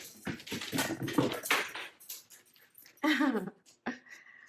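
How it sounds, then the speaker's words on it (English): A dog whimpers and whines while wanting to play, several short, uneven high-pitched bursts close by, with clicks and small thuds of movement between them. "That's my dog. He's wanting to play."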